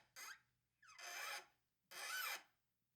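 Threads are cut into a drilled hole for a mounting stud while restoring a 1956 VW Bosch horn, giving three short, close rasping strokes of the tap separated by brief silences.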